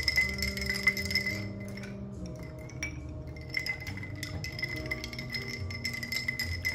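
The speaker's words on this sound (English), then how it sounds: "I'm going to stir it in the glass until everything gets mixed and the cocktail gets cold." Glass clinks as a maple syrup cocktail is stirred in a glass, a string of light, close taps and chinks repeating steadily over a low background hum.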